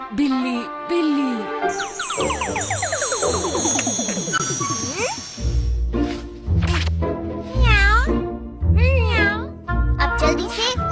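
A cartoon character imitates a cat with drawn-out, wavering meows and yowls between sliding whistle-like effects and jingles, loud and close, with voices speaking alongside.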